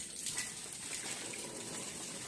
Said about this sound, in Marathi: तर आता हे सगळं पाणी काढतो